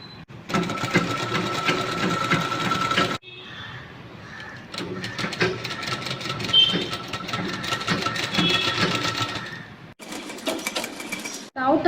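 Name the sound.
sewing machine stitching the edge of a blouse neck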